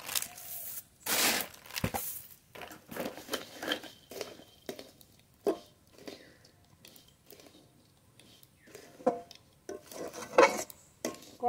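Flattened rice being stirred and mixed with jaggery in a wok, heard as irregular scraping and clanking strokes of a utensil against the metal pan, close and fairly loud, with no voices.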